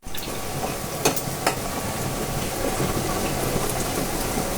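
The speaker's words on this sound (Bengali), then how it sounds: "এখন পেঁয়াজগুলোকে লাল লাল করে ভেজে নিব।" Onions frying in a pan make a dense, steady sizzle close by, with a couple of brief clicks from stirring or utensils and no speech.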